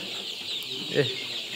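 Sonali chickens on a poultry farm cluck faintly and briefly, with one soft call standing out over a steady background hum.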